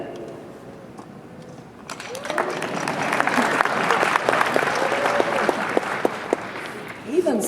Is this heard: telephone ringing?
no